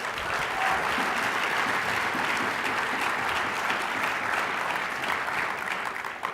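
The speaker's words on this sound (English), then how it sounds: "Give him a big round of applause." Sustained applause from a large audience at a North American climate summit, with steady dense clapping filling the whole stretch at even strength.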